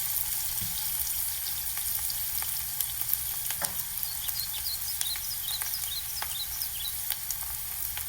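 An onion frying in a pan gives off a steady, close sizzle that carries through the whole stretch, with a few faint clinks and stirring scrapes and no talking.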